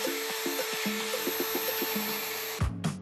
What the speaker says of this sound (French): Je vais passer un petit coup de brosse pour pouvoir retirer l'excédent de cire.